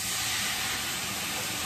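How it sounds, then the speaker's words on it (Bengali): Cold water poured into a hot pot of khichuri, giving a loud, steady hiss and sizzle that holds evenly for a couple of seconds with no talk. "আমি ঠান্ডা জলই অ্যাড করছি"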